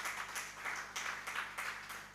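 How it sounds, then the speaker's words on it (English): Faint, distant applause from an audience at a Ugandan forex bureau and money remittance association's anniversary event, honouring sponsor ARMC, with steady clapping that swells in soft waves. "we give him a big, big round of applause"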